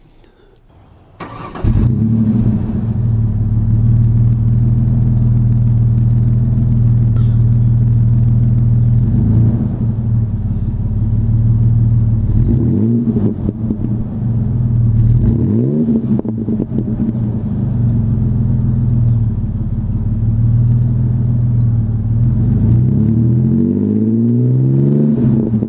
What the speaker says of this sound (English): It's really funny, like it actually has a really nice deep gruff bellow. It kind of sounds like a V8.